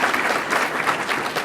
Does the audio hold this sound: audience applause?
yes